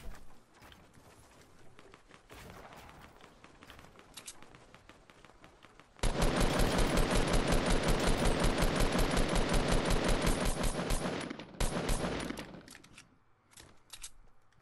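Fortnite Battle Royale gunfire starts with scattered shots, then a long loud burst of rapid automatic fire runs for several seconds and tapers into sporadic shots, with no talk.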